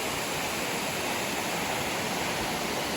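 A river runs steadily past a large log jam, flowing well but not in flood, making a dense, continuous rushing wash of water close by with no voices.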